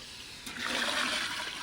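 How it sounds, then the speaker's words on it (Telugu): Water gushes and splashes steadily into a cooking pot of spiced curry, swelling after a brief quieter start, a soft, rushing pour with no talk, outdoors on a hilltop campsite. "నీళ్ళు పోసేసుకున్నాం"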